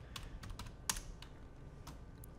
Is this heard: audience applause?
no